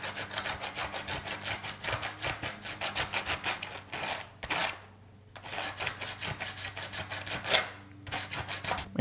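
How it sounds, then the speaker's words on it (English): Sandpaper scrubbing the platter of an external hard drive, a steady run of rhythmic back-and-forth rasping strokes, close and fairly quiet, broken by a few short pauses. "get the sandpaper out for this platter"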